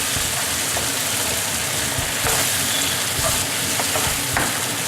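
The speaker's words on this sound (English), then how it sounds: "Stir fry gently on a low heat for about a minute or two" Stew with chopped tomatoes and chili peppers stir-fried gently over low heat, a continuous close sizzle and hiss with soft stirring knocks throughout, no voices.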